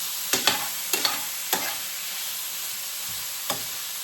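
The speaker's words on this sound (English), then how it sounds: "Make sure it's not sticking to the pan. Make sure you have a nice even fry in there." Beef sizzles steadily in a hot pan while a utensil scrapes and stirs it in several short, sharp bursts, close and without talk.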